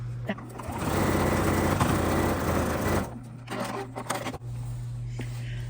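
A sewing machine quilting a round fabric coaster whirs loudly and steadily for about three seconds, then runs in shorter uneven bursts with pauses, close up and without talk.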